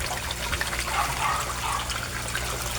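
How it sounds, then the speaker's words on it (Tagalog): Aquarium air pump running in a koi tank, producing a steady bubbling and trickling wash of water with a faint low hum underneath. "ang air pump ko honestly 18 watts lang siya"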